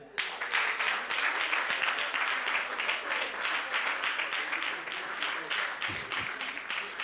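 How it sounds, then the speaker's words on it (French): A church congregation applauds the children who welcomed visitors at the door, with steady, dense clapping that fills the room for the whole stretch at moderate distance. "On peut les applaudir."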